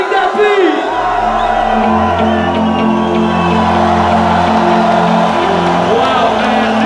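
Tomorrowland mainstage festival crowd cheering and whooping loudly with a pounding dance beat and bass underneath, a steady roar of many voices throughout.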